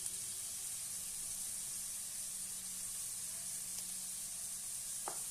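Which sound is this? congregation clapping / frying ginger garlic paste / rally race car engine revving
frying ginger garlic paste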